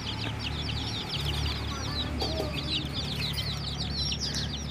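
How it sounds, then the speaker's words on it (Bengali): Chickens and chicks on a farm cluck and peep continuously and close by, overlapping chirps filling the whole stretch with no talk. "আর এই হলো আমার মুরগির বাচ্চাগুলা,"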